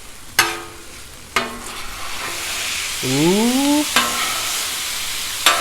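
Cheesesteak filling fries on a Blackstone griddle with a constant sizzle and hiss. A few sharp spatula clanks and scrapes sound over it, and one brief exclamation is heard.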